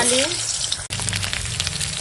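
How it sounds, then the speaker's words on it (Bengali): Potatoes fry in oil with a dense crackling sizzle, one brief break, and the sizzle goes on close and steady. "এখন আলুটা ভেজে নেব"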